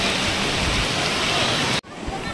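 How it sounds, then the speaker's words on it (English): Dense, even hiss of heavy rain at a homestay in Hebri fills the clip, then cuts off abruptly near the end, leaving quieter background. "Also raining, but raining gives you advantage,"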